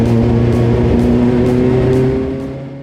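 A Diazio race car powered by a rear-mounted Yamaha YZF 1000 motorcycle engine runs at a loud, steady high-revving drone close by, fading slightly at the end.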